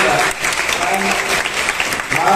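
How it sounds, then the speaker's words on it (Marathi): An audience at a women's achievement award ceremony claps loudly and continuously, a dense, close burst of applause filling the whole moment. "आपण जोरदार टाळ्या वाजवूया"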